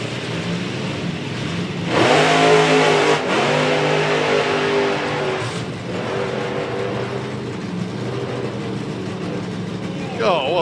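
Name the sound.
drag racing car accelerating down the strip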